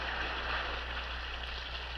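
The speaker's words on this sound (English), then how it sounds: "Rain." Rain falls in a steady, even hiss in a scene from the Laurel and Hardy film Sons of the Desert, with no voices over it.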